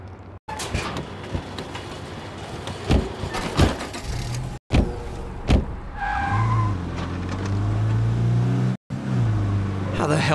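A car driving in the State of Decay 2 video game, its engine humming and revving, then settling into a steady low drone after about six seconds, broken by brief cuts to silence.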